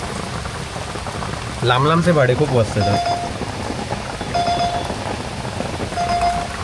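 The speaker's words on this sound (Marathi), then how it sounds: "आज सकाळपासून कंटिन्यू पाऊस पडतोय." Heavy, continuous rain falls on a city road and rattles steadily on an auto-rickshaw. Someone speaks over it briefly, and short electronic beeps repeat in the background.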